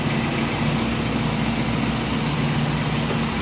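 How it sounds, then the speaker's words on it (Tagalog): A Toyota Corolla radiator fan motor spins with a steady, dense whirring hum and low rumble, loud and close, holding constant throughout without any voices. "umiikot na yung radiator fan motor"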